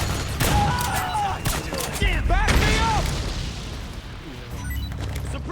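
Heavy battlefield gunfire in Metal Gear Solid 4 on PS3, continuous loud volleys and booms with shouted commands from voices in the clip layered over the shooting.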